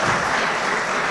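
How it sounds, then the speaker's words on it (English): A round of applause from an audience at a pan-African culture, arts and media forum, greeting media founder Charles Kakuza Nkuriza (KNC); dense, steady clapping fills the whole short stretch with no voices. "Can you give a round of applause for KNC, please?"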